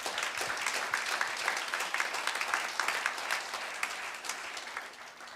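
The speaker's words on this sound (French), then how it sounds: "On va applaudir notre Seigneur Jésus" A church congregation breaks into sustained applause during a worship service, a dense, steady wash of many hands clapping at mid distance for several seconds before thinning out slightly at the end.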